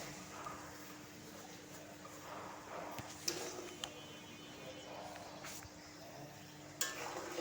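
Pumpkin pieces frying with prawns in a pan, a soft continuous sizzle with occasional scraping and stirring clicks, fairly quiet and close.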